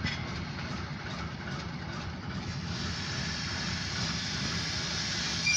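An OC&T short grain hopper freight train heads south through a grain hopper yard, a steady low rumble of rolling cars and engine noise, moderately distant and continuous throughout.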